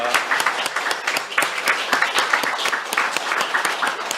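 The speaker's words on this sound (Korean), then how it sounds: "저희가 크게 환영의 박수 한번 부탁드리겠습니다" Loud, steady applause from a church congregation welcoming visiting guests, many hands clapping densely for about four seconds without pause.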